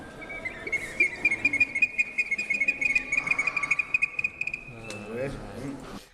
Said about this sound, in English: So that's the sound of the ancient Incan water vessels